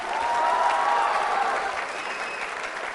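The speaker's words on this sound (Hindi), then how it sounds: "तालियां तो जोरों से बजनी चाहिए, जोरदार तरीके से बजाइए, जोरदार।" At a Valentine's Day quiz show, an audience claps in a loud, dense burst that eases slightly toward the end, with a faint voice or tone drifting through the applause.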